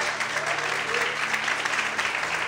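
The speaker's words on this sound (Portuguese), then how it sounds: "Você pode aplaudir esse Deus?" A church congregation breaks into steady, sustained applause filling the room, dense and even throughout with a faint voice underneath.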